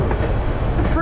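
White Pass railway train rolling on its rails after a landslide, a loud, steady low rumble of wheels and cars close by throughout, briefly.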